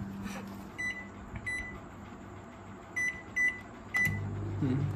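A microwave oven in a 7-Eleven in Bangkok hums steadily with a low drone, punctuated by several short beeps and a door clunk near the end.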